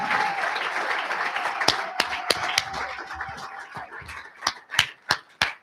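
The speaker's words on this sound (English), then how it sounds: "please stand up so that we can applaud you and appreciate you." An audience at a graduation achievement ceremony claps, starting as a thin, scattered patter and thinning further into a few loud, close individual claps near the end.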